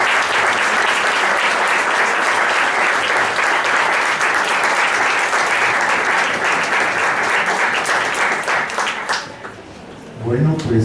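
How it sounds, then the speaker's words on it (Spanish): A packed academic hall at a history conference in Guatemala breaks into loud, sustained applause welcoming a speaker, dense clapping that holds steady and then stops abruptly, followed by a voice beginning to speak. "les pido un caluroso aplauso para darle la bienvenida a esta mesa"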